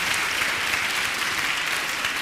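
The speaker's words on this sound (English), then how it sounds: "a round of applause." Audience at a public conversation event breaking into sustained applause, a thick, even wash of clapping at full volume with no pauses.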